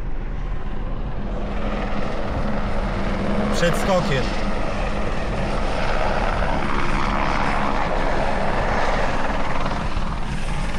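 Loud, continuous rotor and engine roar of a helicopter flying close by at a helicopter base near a waterfall wingsuit jump site, with someone speaking over the steady drone.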